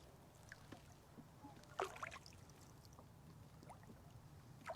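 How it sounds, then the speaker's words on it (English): Quiet paddle strokes from a small boat on a still evening estuary, soft scattered dips and drips over a low hush, with faint background murmur. "So we'll just let everyone enjoy the sound of Jarred paddling around"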